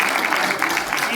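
A crowd claps in steady applause, moderately loud and filling the room, with voices mixed in beneath it.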